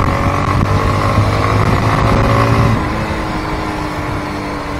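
Engine of a Honda Karizma motorcycle on a ride, a loud, steady drone with a slight rise in pitch and then a gentle easing, close and continuous with no talk.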